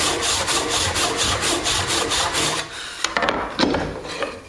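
A hand saw cuts down through timber along a gauge line for a half lap joint, with steady rapid back-and-forth rasping strokes, loud and close, ending in a few sharper scrapes.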